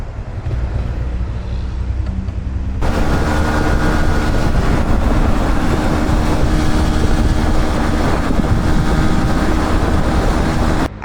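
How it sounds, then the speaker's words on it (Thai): A loud, constant engine drone while moving, which surges stronger after a few seconds and is mixed with rushing wind buffeting the microphone. "เสียงเครื่องยนต์ตอนออกจากบ้านเป็นยังไงฟัง"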